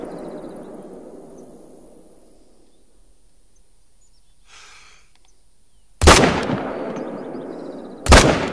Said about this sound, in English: I want to take the shot.